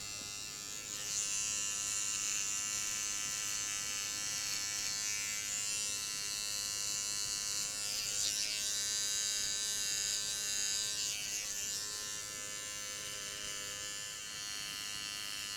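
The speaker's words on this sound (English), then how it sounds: "So I always want to shave up with my trimmer." An electric hair trimmer buzzes steadily and close by for the whole stretch as it shaves upward toward the taper during a men's undercut with a disconnected side part. It pitches slightly as the blade moves over the head, and no one talks.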